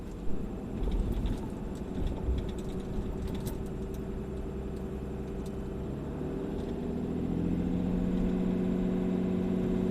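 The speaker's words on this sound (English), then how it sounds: "One nice addition to that AFE intake is you do get a little bit more turbo noise." A 2014 Ram 2500 pickup with the 6.7-liter Cummins diesel and an aFe cold air intake cruises in winter, its steady low engine drone joined by a rising turbo whine toward the end, with no talking.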